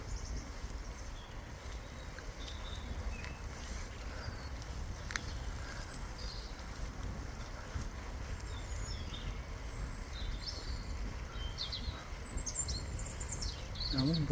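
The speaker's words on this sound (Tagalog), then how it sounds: "Buti pa dito may maririnig kang huni ng hibon, no?" Birds chirp faintly and sporadically outdoors at dusk, with short high calls scattered over a steady low rumble of background noise.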